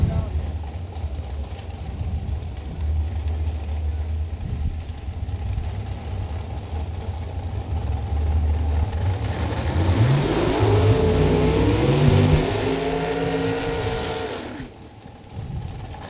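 A drag race car at the starting line after a burnout, its engine rumbling steadily then revving higher as it backs up, loud and close, with a broadband roar swelling toward the end.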